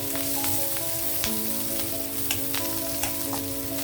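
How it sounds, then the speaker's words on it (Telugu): Cumin, mustard seeds, dried red chilies, curry leaves and coriander leaves crackling in hot oil as a tempering, dense steady sizzle with a few sharp pops and spoon taps, under a low constant hum. "జీలకర్ర, ఆవాలు, ఎండుమిర్చి వేసేసాను. తర్వాత ఈ ఆకులు కూడా వేసేసానండి, కరివేపాకు, కొత్తిమీర."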